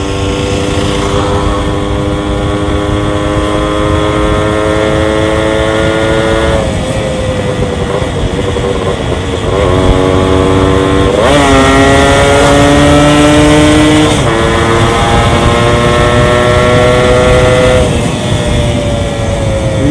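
A Yamaha RX100 two-stroke motorcycle engine drones loudly and close, its pitch rising and falling through several revs over a steady, buzzy idle.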